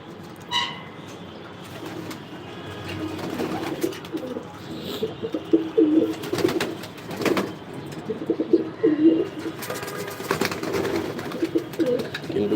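Pigeons in a small racing loft coo in low, repeated murmurs that rise and fall over a steady background, with a few brief louder knocks and rustles scattered through.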